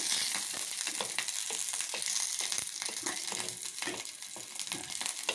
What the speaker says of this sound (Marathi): तापत ठेवलेली तेल टाकले त्याच्यातून ह्या सगळ्या परतून घेणार आहे